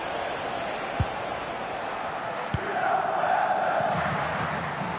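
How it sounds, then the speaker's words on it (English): A stadium crowd in the FC 26 football video game keeps up a steady, distant roar throughout, with a couple of brief thuds. "just listen to this crowd. They want a bit more."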